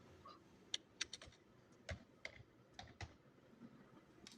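Quiet, irregular clicks of typing on a computer keyboard, with a handful of sharp keystrokes scattered over a faint background.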